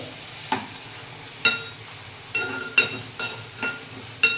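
Half a kilo of chicken for a chicken curry sizzles softly in a pan, broken by a handful of spaced clinks and scrapes as it is stirred, with no one talking.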